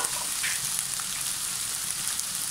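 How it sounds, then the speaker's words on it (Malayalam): Three medium sliced onions fry in hot coconut oil in a pan, making a soft, even crackling sizzle that holds steady throughout and sounds close but fairly quiet. "പാൻ ചൂടായിട്ട് നമുക്ക് അതിലേക്ക് അരിഞ്ഞ ഒരു 3 ഇടത്തര സബോളയാണ് ഞാൻ എടുത്തിരിക്കുന്നത്. അത് ഇതിലോട്ട് ഇട്ട് കൊടുക്കാം."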